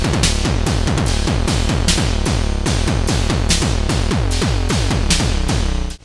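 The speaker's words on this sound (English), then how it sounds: "there's a way of combining the kick drum sound with a bass sound or a riff type sound" Industrial metal beat played on a Nord Drum 3P electronic drum pad, with pounding kick hits fused to a bass riff in a fast, steady, dense rhythm, loud and continuous throughout, no talking.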